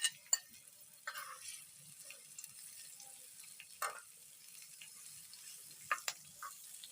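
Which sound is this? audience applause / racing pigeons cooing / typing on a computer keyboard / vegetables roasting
vegetables roasting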